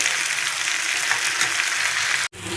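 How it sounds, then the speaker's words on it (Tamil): A raw mango stir-fry (varuval) sizzles steadily in a pan as it is stirred, a continuous close frying hiss that cuts off abruptly near the end. "அப்படியே பக்குவமாக கிளறிட்டுக்கேங்க"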